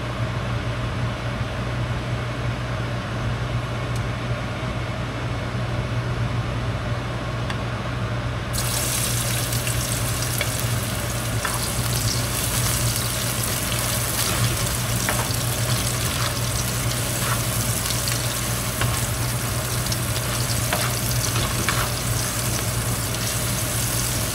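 Eggs for a ham and cheese omelette sizzle in a pan, a steady hissing fry that holds throughout and grows brighter and crisper partway through.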